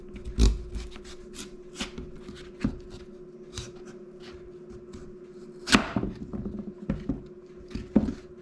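A knife cutting vegetables into roughly three-quarter-inch cubes on a board, a series of irregular crisp chops and taps with soft rustling between them and a low steady hum underneath.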